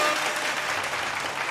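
Steady applause from a dense crowd at the grand final of a fashion contest, greeting a finalist as her placing is announced. The applause is continuous and fills the whole moment.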